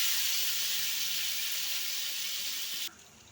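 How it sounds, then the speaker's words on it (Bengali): Sliced pointed gourd (potol) fries in hot oil in a pan, giving a steady, bright sizzling hiss close up that stops abruptly near the end and leaves only a faint residual hiss. "পটলগুলো ভালোভাবে ভেজে নেব"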